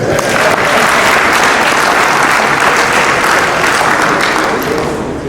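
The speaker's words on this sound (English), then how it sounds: "Can you clap for yourself?" Loud, sustained applause from a large audience in a hall at a formal opening ceremony, dense and continuous, fading slightly at the end.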